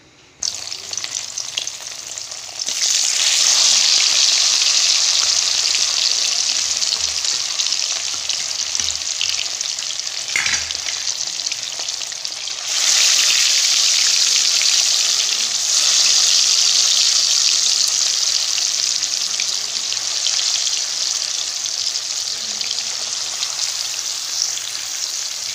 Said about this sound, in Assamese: তেল গৰম কৰি থৈছোঁ তাৰ মাছখিনি ফ্ৰাই কৰি লওঁ